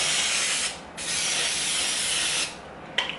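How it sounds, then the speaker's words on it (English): Pam cooking spray misted into a Pyrex whiteware dish: two long, steady close hisses with a brief gap between them, then a quick final spurt. "Pam spray."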